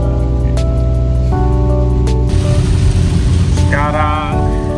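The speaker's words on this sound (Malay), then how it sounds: "Tapi masih lagi hujan lebat ni." Heavy rain drums steadily on a moving car in Malaysia, a dense close hiss over a constant low engine and road rumble, with a few sustained tones running alongside.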